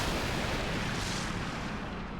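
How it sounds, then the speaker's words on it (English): Gunfire in a Final Fantasy XII cutscene arrives as a dense, continuous roar of shots and blasts, loud and unbroken, with the top end fading toward the close and no voices over it. "Who is shooting?"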